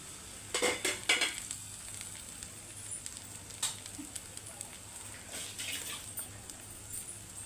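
Chilli powder and eggs being stirred in a sizzling frying pan for an Andhra-style egg curry, with a steady frying hiss and clusters of close spoon scrapes against the pan that come and go.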